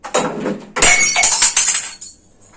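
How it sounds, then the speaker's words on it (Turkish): A glass soda bottle breaks and shatters, a loud close crash followed by a bright spray of tinkling shards that fades out over about two seconds. "Soda şişesini çünkü bayağı bir paramparça ettim."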